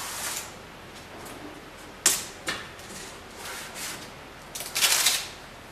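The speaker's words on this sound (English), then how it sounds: "we'll just simply use some masking tape to seal things up." Masking tape applied to seal up a Doc IT installation, heard as a few close tearing and ripping bursts of tape pulled off the roll, with quiet gaps between them.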